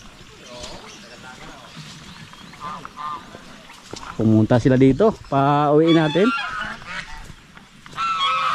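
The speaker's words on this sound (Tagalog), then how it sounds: "Yung mga gansa natin, oh." Farm geese honk loudly and close by in a field, a run of harsh repeated honks that builds into a burst, with people talking before and around them.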